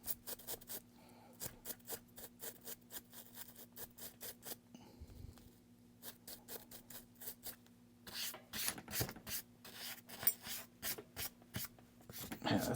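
Rapid dry bristle scrubbing of a brush cleaning G-Shock GW-M850 watch parts, close and quiet, coming in quick rhythmic bursts separated by short pauses.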